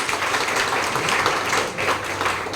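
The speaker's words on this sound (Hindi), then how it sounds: "शानदार ताली अपने लिए बजाने दो" Seminar audience gives an energetic round of applause, a dense, continuous burst of many hands clapping at close range, with no speech.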